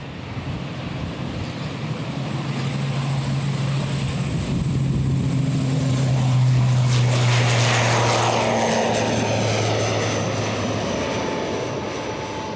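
ATR 72-600 freighter turboprop engines, a sustained propeller drone and roar that swells toward the middle as the aircraft passes, with steady tonal hums and no speech.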